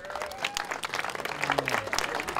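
An outdoor crowd at the awards of a sandcastle contest in Newport Beach claps steadily at moderate distance, a soft continuous patter of applause.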